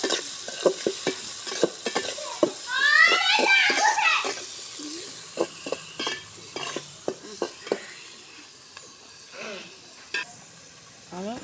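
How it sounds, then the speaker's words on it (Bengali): Onions sprinkled with salt fry in a pan and are stirred steadily, giving a loud sizzle with repeated scraping strokes, while people talk close by through most of it. "লবণটা ছড়াইয়ে দিলে পেঁয়াজটা সুন্দরভাবে ভাজা হবে।"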